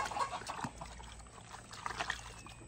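Buckskins are washed by hand in soapy water, giving soft close sloshing, pouring and trickling with small irregular splashes at a low, even level; no one speaks.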